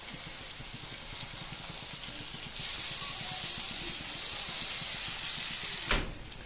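Spice paste of green chillies, cashews, cumin and coriander powder hitting a hot pan, a steady sizzling hiss that surges louder partway through and keeps going alone, close and clear.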